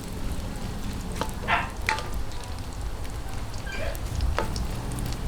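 Squid balls and kikiam fry in hot oil for pancit guisado, a steady close sizzle broken by a few brief sharper crackles and pops as the pieces cook.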